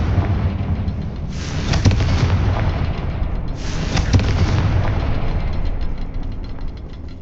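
Two explosive Confringo spell blasts from the game Hogwarts Legacy burst about two seconds apart, each a loud boom with crackling tails over a dense rumbling backdrop.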